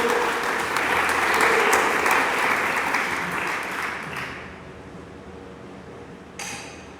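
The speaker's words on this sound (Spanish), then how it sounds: "Dele palmas al Dios del cielo." A church congregation claps together in a dense, lively burst of applause that rings through the room, then thins and fades to a soft murmur, with a single sharp clap near the end.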